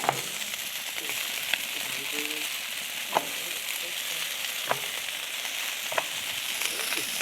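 Tortillas sizzle steadily on a Blackstone griddle, a dense, even frying hiss broken by a few sharp clicks of a spatula, close and continuous with no talk.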